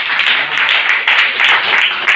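Worshippers at a Swahili church service clap for Jesus in a continuous, fairly loud burst of applause that swells and dips slightly in waves, with no talk over it.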